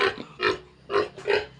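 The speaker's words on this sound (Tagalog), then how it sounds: "At saka ito yung malaking baboy, si Cordapia." A large pig on a pig farm grunts four times in short, evenly spaced bursts. The grunts are close and fairly loud, with quiet gaps between them.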